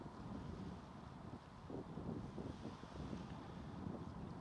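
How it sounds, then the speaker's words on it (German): A stiff breeze by the Öresund Bridge near Malmö buffets a camera on a tripod, making a steady low rumbling roar of wind on the microphone with gusty swells and no voices. "Der Wind spielte mit der Kamera auf dem Stativ."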